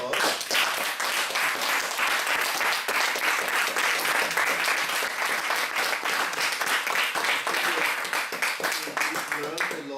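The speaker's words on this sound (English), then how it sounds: "it deserves a big applause" An audience at a talk on inter-religious dialogue and conflict resolution breaks into sustained, dense applause, many hands clapping loudly and steadily throughout with no break.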